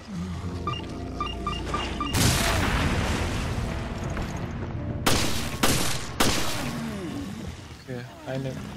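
Explosions and gunfire in Resident Evil: Revelations HD, a heavy blast and roar followed by several sharp loud booms in quick succession, with someone talking over the game.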